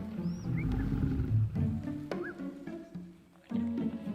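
A wild lioness growls and snarls close up at her cubs over food, low rumbling bursts broken by short pauses, with faint squeaky cub calls in between.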